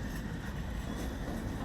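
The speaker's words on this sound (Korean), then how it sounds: "비록 속도 40km가 최선이지만 기차는 이렇게 다시 달리고 있다" A slow passenger train in Cambodia, back in service after years of civil war, rumbles steadily at about 40 km/h, a continuous close low roar with no distinct clacks or horn.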